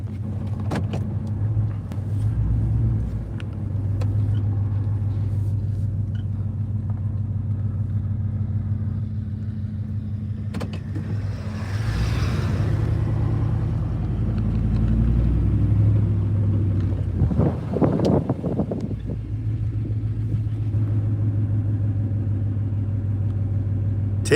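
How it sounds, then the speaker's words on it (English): Muscle cars at a quarter-mile drag race: a steady low engine rumble runs throughout, with a louder pass building mid-clip and another surge of revving near the end, fairly close and without speech. "1/4 mile muscle car racing."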